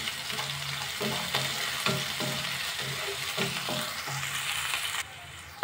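Chopped onion being stirred and fried in a pan, a continuous close sizzle broken by repeated rhythmic scraping strokes of a spoon against the pan.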